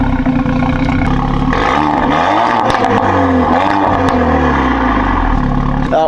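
A Renault Mégane RS engine revs hard and close up, with rising and falling pitch sweeps across repeated throttle blips, loud and steady throughout with no voices.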